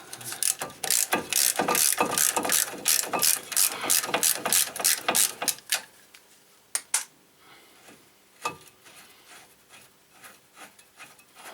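Ratchet socket wrench working brake bolts on a 2001-2005 Toyota RAV4, a rapid run of loud, close clicking strokes that slows into scattered, fainter ratchet clicks and pauses.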